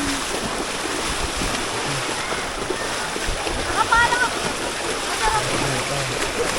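River water rushes steadily and loudly throughout, a broad splashing wash of current, with faint voices mixed in underneath.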